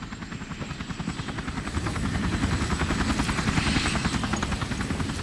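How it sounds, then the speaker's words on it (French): Helicopter arrival in the video game Resident Evil 4 Remake: a loud, steady rotor chop with rapid rhythmic thumping that grows slightly stronger as it nears, heard alone without talk. "L'hélico est là."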